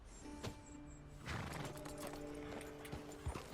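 Horse in the video game Red Dead Redemption, with clear hoof clip-clops and a whinnying neigh over a quiet background, close and moderately loud.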